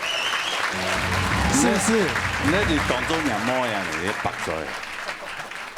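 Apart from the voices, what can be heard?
audience applauding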